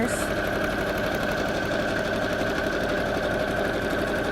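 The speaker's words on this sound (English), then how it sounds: "we're going to start sewing" A sewing machine stitches black and white satin ribbon. It hums in a steady, continuous rapid whir, close and loud, throughout the whole clip.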